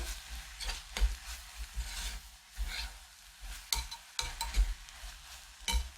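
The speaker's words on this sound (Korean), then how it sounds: "고춧가루 넣고 또 이렇게 볶아줍니다" Soft scraping and stirring of chili powder being stir-fried in a pan for soft tofu stew, with a faint sizzle underneath, irregular strokes at close range, no voices.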